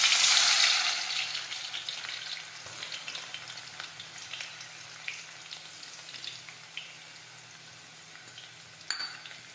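Crushed garlic, mustard seeds and cumin hit hot oil with a loud initial sizzle that settles into a steady crackling fry, close by, with occasional stirring taps and no speech.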